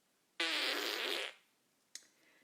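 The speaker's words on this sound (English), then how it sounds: "Walter farted guiltily." A dog fart sound effect: one loud, buzzing blast of about a second, close and alone, followed by a short faint second puff.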